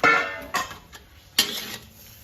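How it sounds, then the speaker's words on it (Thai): A spatula clanks and scrapes against a pan of stir-fried spicy seafood with Thai basil leaves, giving a few sharp knocks between softer stirring sounds, close and alone. "แล้วก็ผัดให้ใบโหระพาเขาสลดนะคะ"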